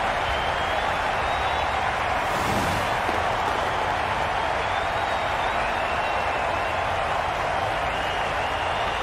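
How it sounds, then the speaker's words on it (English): Crowd noise at a women's T20 cricket match between India and Pakistan, a continuous, distant wash of cheering and applause that swells briefly, with no talk over it. "the crowd have joined the party. It's pretty noisy in the ground."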